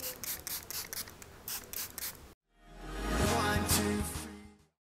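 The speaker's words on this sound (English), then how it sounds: "I'm going to just spray my face, set everything" A burst of fine aerosol spray hisses steadily for about two seconds, close up and alone, after some soft rubbing sounds.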